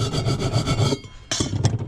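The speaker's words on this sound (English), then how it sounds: "So we're just going to give this one a quick grind with this" An angle grinder makes a quick grind on a piece of scrap metal, a steady close rasping that breaks off and then starts again in a second short burst.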